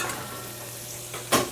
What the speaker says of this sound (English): I'm going to replace this and deglaze this pan